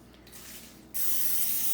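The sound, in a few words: olive oil cooking spray being sprayed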